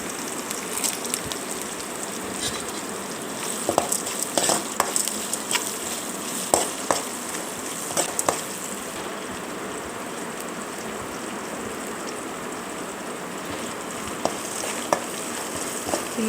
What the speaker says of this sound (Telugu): నానబెట్టిన శనగపప్పు వేసుకోవాలి. వేసుకొని మంచిగా ఫ్రై చేసుకోవాలి